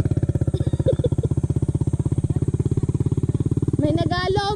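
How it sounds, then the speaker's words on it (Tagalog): A motorcycle engine thumps in rapid, even pulses as it strains along a rough rural road, loud and close, with a brief rising rev near the end. "Nahirapan yung motor mo."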